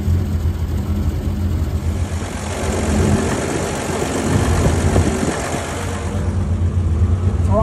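A T24 Studebaker Weasel engine idles steadily after sitting unused for years, a low, continuous rumble with a constant drone throughout, close and fairly loud, with no voices.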